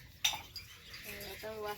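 Metal dishes and cutlery being washed in a village home, a brief sharp clink followed by light rattling and scraping of utensils, close and short.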